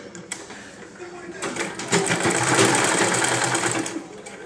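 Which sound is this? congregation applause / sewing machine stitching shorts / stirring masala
sewing machine stitching shorts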